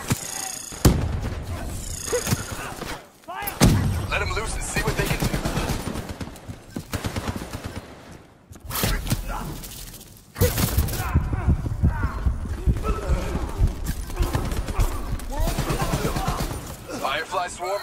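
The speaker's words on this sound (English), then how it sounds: "I've loaded a second cyber ability into your cores. Firefly, swarm of incendiary nanobots." Swarm of incendiary nanobots attacking in the Black Ops 3 campaign, heard as dense crackling bursts and rapid fire-like clatter amid loud combat, with gaps of near silence between the louder stretches.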